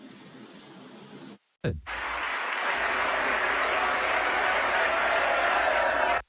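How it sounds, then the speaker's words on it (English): An audience stands and claps: after a short bit of other sound and a brief gap, loud, steady applause starts and holds for about four and a half seconds before cutting off. "Standing and clapping."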